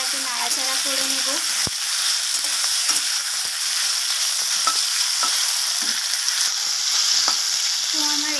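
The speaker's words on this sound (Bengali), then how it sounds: "এরপর আমি ভালোভাবে তেলের সাথে এটাকে নাড়াচাড়া করে নেব" Taro stolons (kochu loti) fry in hot oil in a pan with a steady, close sizzle. Spatula scrapes and clicks are heard throughout as they are stirred.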